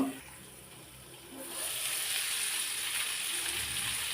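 Fish frying in a covered pan: quiet at first, then a broad steady sizzle swells up and holds to the end.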